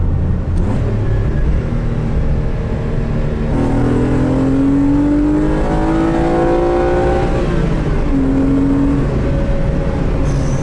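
A Renault Clio V6 engine accelerates hard from inside the low car, its loud, steady drone rising in pitch through the gears and continuing without a break the whole way.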